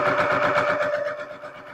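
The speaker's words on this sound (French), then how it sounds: "Je plante mon aiguille. Je ne fais pas de point d'arrêt. Et c'est parti. Je couds tout droit." A sewing machine runs a straight seam in one short continuous burst of rapid, even needle clatter with a steady motor whine, close and loud, no speech.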